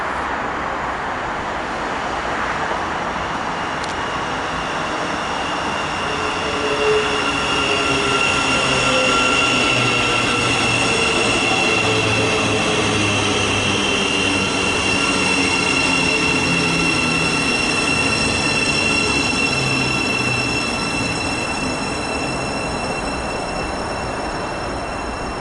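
A Thameslink train passes through Mill Hill Broadway station, a long, loud, sustained rumble of wheels on rails with high squealing tones and shifting hum, steady for the whole stretch with no talk.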